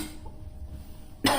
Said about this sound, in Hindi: और आज मेरे को खांसी सी हो रही है भाई।